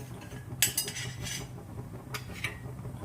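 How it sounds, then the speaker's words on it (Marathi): Almonds stirred in ghee in a kadhai with a metal spoon, making a few sharp clinks and scrapes at about 0.6 and 2.2 seconds. A quiet cooking hum runs underneath. "आता याच्यामध्ये जे अर्धा कप आपण बदाम घेतले ते घालूया।"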